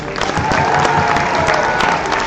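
Audience applause at a 2022 graduation ceremony: dense, sustained clapping from a crowd with scattered cheers, steady and loud throughout.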